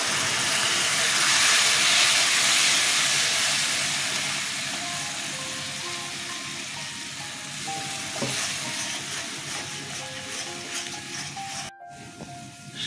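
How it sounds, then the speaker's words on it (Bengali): Pineapple pulp hitting a pan of fried spice paste, raising a loud, steady sizzle and steamy hiss that slowly eases, with a few faint clinks of utensils and a sudden brief cut near the end. "কষানো হয়ে গেছে, এবার দেখুন আনারসের পাল্পটা দিয়ে দিচ্ছি।"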